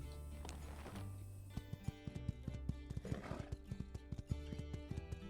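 A horse in the video game My Time at Sandrock clip-clops at a steady trot, hooves knocking rhythmically over light background music, with a brief whinny near the start.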